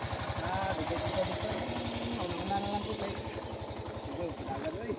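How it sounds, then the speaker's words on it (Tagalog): Motorcycle engine idling steadily up close in an outdoor rural setting, a continuous low pulsing throb that runs without a break beneath faint background sounds. "Kawawa raw ang motor ni Pastor Don"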